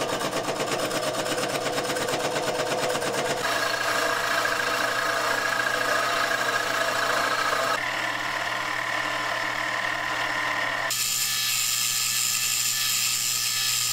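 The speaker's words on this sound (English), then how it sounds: "Next, we machine up the tail cone plug." A rocket tail cone plug being machined in a workshop, a steady mechanical whir with a rhythmic ratcheting rattle that changes pitch in several abrupt stages, close and with no talking.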